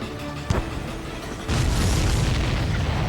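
A missile explosion in the flight combat game Ace Combat 7, a single sharp boom followed by a sustained, loud rumbling roar that swells and holds steady with no talking over it.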